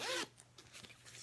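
A quick zip on a Betsey Johnson zipper bag, a short bright rasp at the start, then quiet handling and a brief voice before another short zip at the end.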